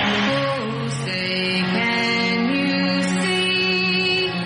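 Singing at the Super Bowl, a recorded performance with sustained vocal melody over steady instrumental backing, continuous and fairly loud throughout.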